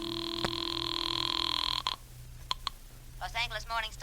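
A telephone in an old radio drama gives a sustained electronic ring or tone that cuts off, followed by a couple of sharp clicks of the receiver, then a voice starts speaking.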